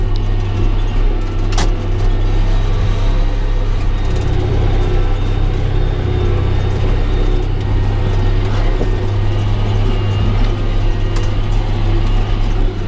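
Tractor engine pulling a disk through a field at night: a loud, steady low diesel drone with constant rumble and occasional faint clanks, close and continuous throughout.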